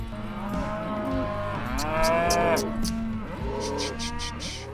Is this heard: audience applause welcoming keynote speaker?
no